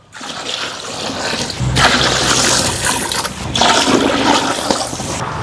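Water is poured in from a bowl, several measures in turn, into a large pot for chicken fry piece biryani, a loud, close, continuous gushing and splashing with the flow surging now and then.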